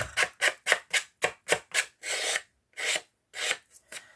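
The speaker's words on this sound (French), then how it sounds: "un petit coup de lime pour enlever les petites peluches" Hand file rasped against paper edges to strip away fuzz, about a dozen short, crisp strokes in quick rhythm, then a few longer scrapes with brief pauses, heard close up with no talk.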